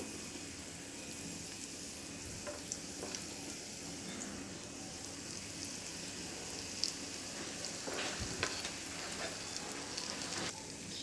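Banana pitha cakes frying in oil give a soft, even sizzle that holds steady and quiet, with a few faint clinks and bumps along the way.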